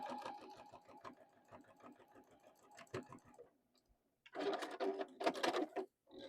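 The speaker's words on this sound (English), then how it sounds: "you're just going to sew right straight across here" Sewing machine stitching straight across fabric scraps for a quilting project, a quick steady needle rhythm, then a short pause and a louder, faster burst of stitching close by.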